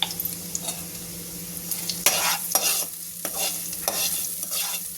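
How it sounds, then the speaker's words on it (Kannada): Raw mango mixture is stirred in hot oil, with a spoon scraping the pan in short strokes over a steady, soft sizzle of frying, close up and with no talking. "ಚೆನ್ನಾಗಿ ಕೈ ಆಡಬೇಕು, ಯಾಕಂದರೆ ಎಣ್ಣೆ ಒಳಗೆ ಆ ಪದಾರ್ಥ ಮಿಕ್ಸ್ ಆಗಬೇಕು."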